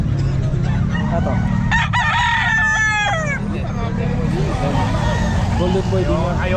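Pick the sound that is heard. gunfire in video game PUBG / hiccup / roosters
roosters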